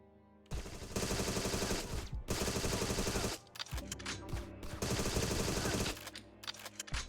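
Long, loud bursts of automatic gunfire in a shooter game demo, rapid continuous volleys broken by short pauses, with a few sharp single shots between the sustained strings of fire.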